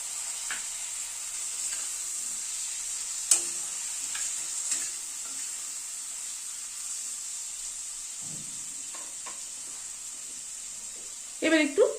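Chopped large tomato fries with spices in a pan for a paneer curry, giving a quiet, steady sizzle with occasional stirring clinks and a louder scrape near the end.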